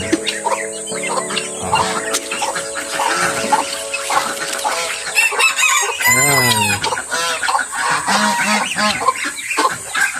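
Pekin ducks mixed with other farm poultry such as chickens, geese and guinea fowl, giving overlapping clucks, honks and crowing that carry loud and busy throughout, with a rising crow-like call near the middle.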